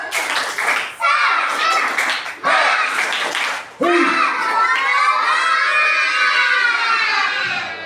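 Children at a mushola shout a rhythmic clapping chant in loud bursts, then hold a long drawn-out cheer, close and lively.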